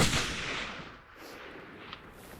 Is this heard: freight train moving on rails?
no